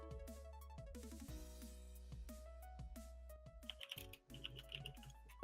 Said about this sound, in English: Furious typing continues.